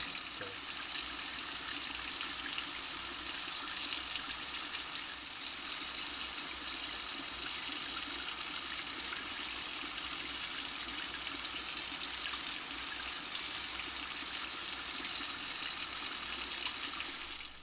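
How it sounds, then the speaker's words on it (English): Steady tap water pours and splashes over plated parts of a 1960s Unimet GL-1 lantern as they are rinsed after a citric acid bath, a continuous close rushing stream with no talk. "I'm just going to rinse them well with water and give them a rub down with some 4/0 steel wool"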